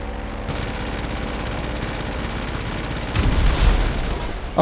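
Aircraft guns fire continuously in a GTA Online dogfight, a dense, loud stream of rapid shots and booms that swells sharply near the end, with no talking.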